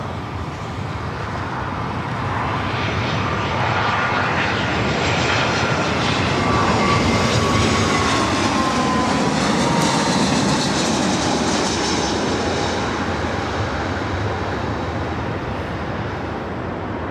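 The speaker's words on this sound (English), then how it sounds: "That was United Airlines flight 387 coming in from Vancouver, an A320" A United Airlines Airbus A320 landing at LAX, a loud, sustained jet roar with a slowly sweeping whine that swells mid-pass and holds steady, no voices.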